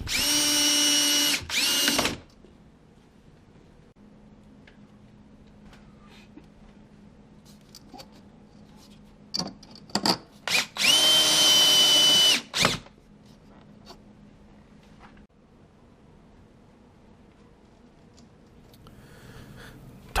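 A cordless power drill drives screws into the slide hardware at the top of a bifold closet door, with a short whirring burst at the start and another longer run near the middle, separated by quiet handling and clicks.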